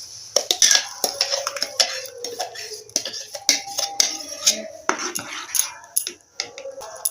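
Papaya paste going into a pan on a gas stove: a run of sharp clinks and scrapes of a utensil against the pan, close up and irregular, with no talking.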